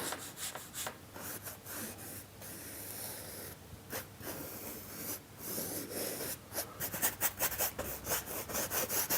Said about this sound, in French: avec mon couteau à peindre, je vais appliquer le mortier sur la zone que j'ai définie